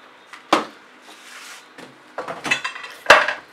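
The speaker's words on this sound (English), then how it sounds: "And there goes a bottle of paint, just to prove my point." A bottle of acrylic paint tips over among clattering studio clutter, with several knocks and clinks and a sharp final clatter, close by and unaccompanied by speech.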